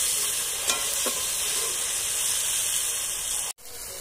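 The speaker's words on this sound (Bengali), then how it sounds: "মশলাটাকে একটু ভেজে নিচ্ছি।" Spice paste seasoned with salt frying in a pan, a loud, steady sizzle and hiss with a couple of soft stirring knocks, dropping out briefly near the end.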